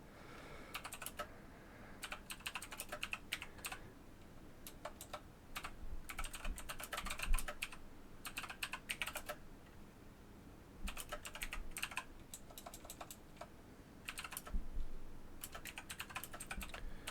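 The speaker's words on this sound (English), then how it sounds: "I am typing out a tweet" Someone types a tweet on a computer keyboard, a close, quiet run of quick key clicks in bursts separated by short pauses, with no talking.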